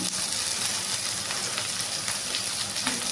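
Okra with green chillies fries in a pan, giving off a steady, even sizzle at close range that holds throughout without pause and carries no talk.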